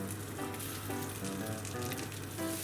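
Chikuwa fish cake frying in butter in a frying pan gives a steady, soft, close sizzle with faint popping and no voices.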